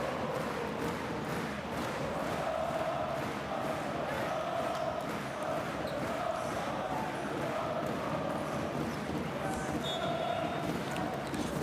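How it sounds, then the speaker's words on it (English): Basketball arena crowd at a Pinar Karsiyaka home game in the Champions League, a steady roar of cheering and chanting throughout, with a commentator talking over it. "This Pinar Karsiyaka crowd just looking for a reason to go nuts."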